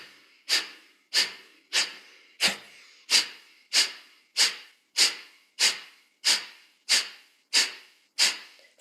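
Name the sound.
breathing exercise, deep inhaling and exhaling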